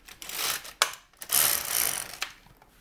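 An LK-150 knitting machine carriage slides across the needle bed in a few quick passes, each a rattling mechanical swish with clicks, close and fairly loud, no speech.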